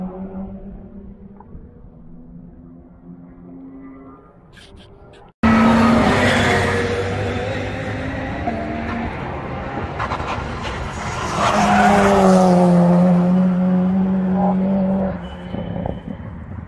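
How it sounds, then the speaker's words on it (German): A WTCC touring race car engine roars loudly past on the Nürburgring, revving hard and sustained, swelling louder midway with tire noise. "WTCC-Auto knallt gut."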